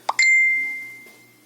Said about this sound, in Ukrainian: якесь повідомлення прийшло